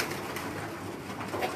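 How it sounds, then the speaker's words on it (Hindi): A breeder pigeon at a fancier's home loft coos faintly in a brief, low murmur against steady background noise. "खलीफा साहब के घर का कबूतर है ये, ठीक है जी, ब्रीडर कबूतर है।"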